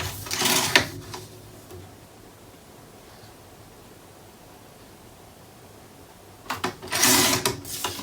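Paper for a scrapbook cover is trimmed on a cutter in two short scraping slides, one at the start and one near the end, separated by several seconds of quiet.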